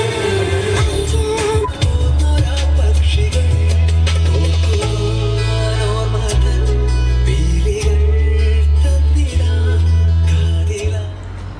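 Music plays loud and steady from the radio of a Mahindra XUV 300 AMT diesel's infotainment system, with a strong pulsing bass beat and no talk over it.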